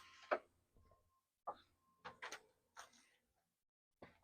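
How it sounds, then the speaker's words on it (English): A Nissan 350Z door being opened gives a quiet series of separate latch clicks and soft clunks, spaced irregularly with silence between them. "Open the door."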